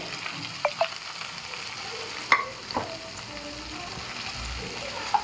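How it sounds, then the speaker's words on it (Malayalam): Chopped broccoli frying in a pan with green chillies and garlic, giving a soft, close sizzle broken by a few sharp stirring clicks and scrapes. "ഇനി നമ്മൾ ഇതിലേക്ക് അരിഞ്ഞു വെച്ച ബ്രക്കോളി ഇടുകയാണ്"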